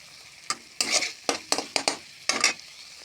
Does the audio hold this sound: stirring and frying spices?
yes